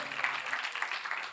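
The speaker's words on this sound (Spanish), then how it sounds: "el que es hijo, dale un aplauso al Señor" Short burst of congregation clapping in a church service, a dense patter of many hands at moderate distance with a faint voice underneath.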